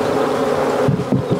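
Honey bees from a nuc buzz densely around a newly installed hive, a close, continuous drone, with a few soft thumps near the end.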